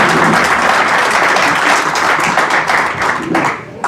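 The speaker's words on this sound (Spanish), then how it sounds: "Qué gusto ver el salón lleno, y estos aplausos, Ronnie, son unos aplausos por ti" A full hall erupts in loud, sustained audience applause at a book presentation during a literary event at a book fair, with dense clapping holding steady for several seconds before tapering slightly at the end.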